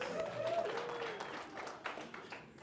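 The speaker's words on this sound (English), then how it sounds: "Round of applause, a few of you." A comedy club audience gives a brief, scattered round of applause, a few people clapping at moderate volume under a noisy room.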